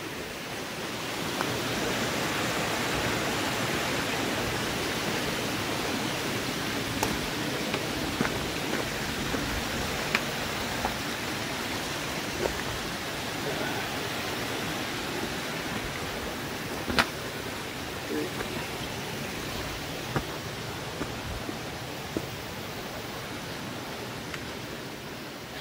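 A small waterfall on New Zealand's Te Araroa Trail pours in a constant, broad, roaring rush, close and steady for the whole stretch, with faint occasional clicks and taps.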